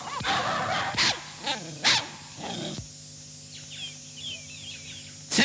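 A dog barks in a series of sharp, loud yelps and bow-wows near a house, with whimpering cries between them, and faint birdsong chirps in the quieter stretch afterward.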